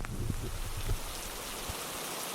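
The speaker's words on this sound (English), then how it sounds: "Instead of letting up, the rain actually worsens over the next few hours." Steady rain falling on a tarp at a campsite in Algonquin, a dense continuous patter with a few heavier close drops near the start, and no voices.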